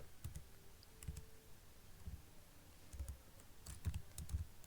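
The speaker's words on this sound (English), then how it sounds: "You can type whatever name you want for your server" Keys clacking on a computer keyboard as a server name is typed, a quiet, irregular run of soft clicks spread across the moment with no voices.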